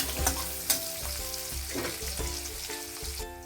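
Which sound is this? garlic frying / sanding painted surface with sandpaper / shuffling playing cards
garlic frying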